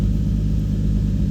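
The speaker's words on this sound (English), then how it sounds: "Car idles." A turbocharged Toyota IS200 idling at home with a hot start issue, a steady low rumbling engine drone with an even pulse, close and loud, with no voices.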